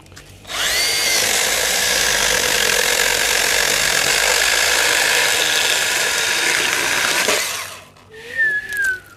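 A Milwaukee M12 cordless pruning saw cuts through thick fig wood in one long, loud, close burst of buzzing for about seven seconds, then stops, followed by brief rustling and a faint squeak.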